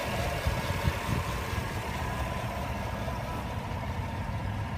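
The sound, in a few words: 2016 Chevrolet Tahoe LTZ engine idling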